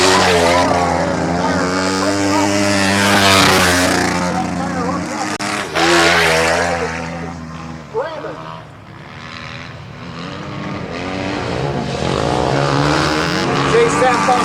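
Motorcycles racing on a TT dirt track in Macomb, Illinois, with engines revving and droning loudly and continuously, rising and falling as the bikes pass, under an excited race commentator.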